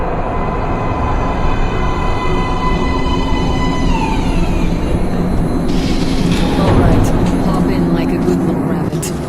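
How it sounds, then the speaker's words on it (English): A train roars into a metro platform in the video game Metro Last Light, a loud sustained rumble with a rising hiss and screech of brakes, under talk. "Train coming in."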